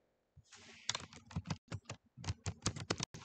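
Quick, irregular clicks of typing on a computer keyboard, close and crisp, with short bursts of keystrokes and brief gaps, alone without speech.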